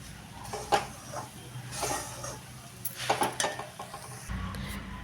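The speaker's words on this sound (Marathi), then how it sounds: "आणि हे चांगलं 1-2 मिनिट चांगलं परतून घेऊया" Roasted jowar flour is stir-fried in a pan for a Vidarbha-style upma, with repeated scraping and stirring strokes, soft sizzling and occasional clinks of a utensil against the pan, close and fairly loud.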